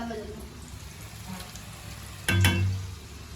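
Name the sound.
chakli dough frying in hot oil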